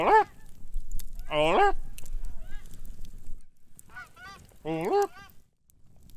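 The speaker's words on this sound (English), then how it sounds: "All those geese." Geese honk in loud, nasal bursts, a close cluster near the start and another a few seconds later, while a person calls out between the honks.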